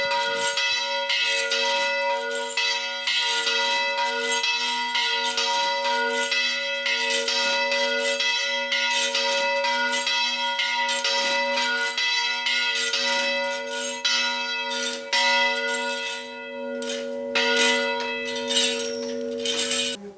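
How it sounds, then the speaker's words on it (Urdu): Church bells in Lebanon ring for the Sunday ceremony in a continuous, loud peal of many overlapping strokes and humming tones that carries on steadily throughout. "اب آپ دیکھ رہے ہیں گھنٹیاں بجنی شروع ہو گئی ہیں"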